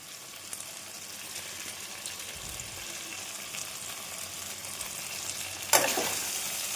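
Cubed paneer frying in a spiced potato masala, a continuous close sizzle with faint stirring, then a sudden louder hiss near the end, no talking.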